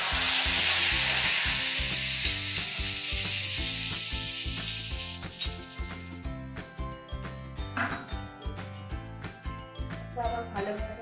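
Pointed gourd with whisked yogurt, chili powder and turmeric frying in a pan, a loud hissing sizzle at first that fades as a spoon scrapes and stirs in a steady, repeated rhythm.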